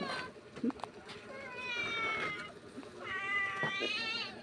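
A cat meows in two drawn-out, wavering cries, one after the other, close by. Softer background sounds and a few brief knocks come between the meows.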